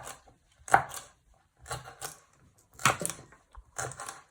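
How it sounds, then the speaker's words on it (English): Knife slicing spring onions on a chopping board, a series of soft irregular thuds and cuts in small clusters, close and fairly quiet, with no talk. "So you're just finally slicing them."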